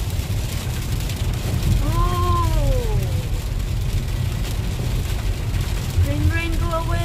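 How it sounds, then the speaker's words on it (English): Rain falls steadily in Doha as a constant broadband hiss, with a few brief vocal sounds over it. "it's raining."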